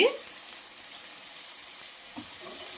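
Egg dosa frying in oil with red chili powder on a pan, a soft steady sizzle with a brief scrape at the start and a small stir near the end.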